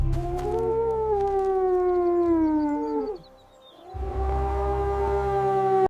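Loud and close, a wolf lets out a long wavering howl that drifts downward, then after a short quiet gap a second sustained howl holds steady to the end.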